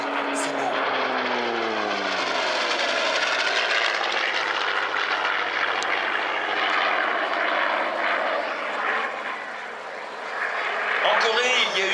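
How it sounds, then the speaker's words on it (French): A Hawker Sea Fury propeller fighter roars past at an air show in Île-de-France, its loud engine drone shifting in pitch as it passes and swelling again near the end, under continuous commentary. "Le monstre a été le dernier avion construit par Hawker"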